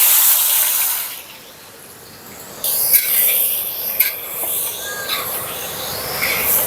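Chopped onion hits hot mustard oil in a wok for a village-style mutton curry, giving a loud, steady hiss and sizzle with a few sharp spits and crackles, heard alone without voices.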